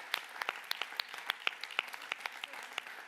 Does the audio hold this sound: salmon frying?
no